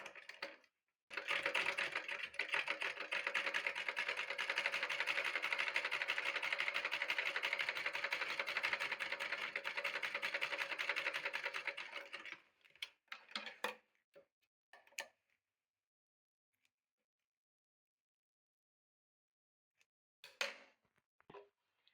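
A sewing machine stitches umbrella skirt fabric in one continuous rapid clatter of about eleven seconds, then stops, leaving only a few brief handling clicks and near silence.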